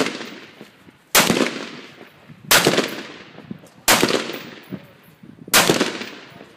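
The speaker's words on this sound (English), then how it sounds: "give me three shots" Four loud, close gunshots ring out from a single weapon, each a sharp crack with a long echoing tail, spaced roughly a second and a half apart, with no voices.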